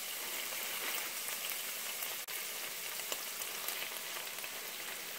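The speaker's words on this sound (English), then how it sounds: "next I'm going to stir in the carrots and the spinach" Carrots and spinach go into a pan of frying Korean beef, giving a soft, steady sizzle with a faint stir or clink partway through, with no speech over it.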